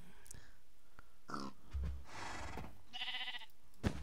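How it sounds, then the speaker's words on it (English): A Minecraft cow in Skyblock gives a couple of short, low moos close by, mixed with other brief game sounds and a little talk. "Now I've got the cow with me."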